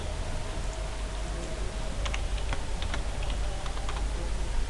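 Code being typed on a computer keyboard during a PHP web development lesson, with steady clicks and bursts of keystrokes close to the mic over a low background hum.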